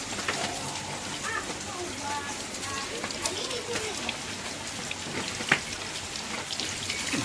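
Steady rain pours in Rajkot during winter, a dense, even hiss of drops hitting surfaces close by, with a faint voice murmuring underneath and one sharp splash-like tick near the end.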